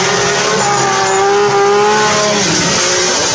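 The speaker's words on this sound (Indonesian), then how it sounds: "Mobil balap." A toy race car gives off a loud, continuous synthetic engine whine with rising and falling revving tones and a tire-squeal edge, heard alone and close.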